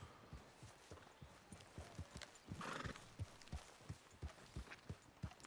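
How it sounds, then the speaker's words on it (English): A horse in the Red Dead Redemption 2 video game clip-clops at a steady, even pace, with close rhythmic hoofbeats throughout and a short whinny in the middle. "I guess I'll park my horse here."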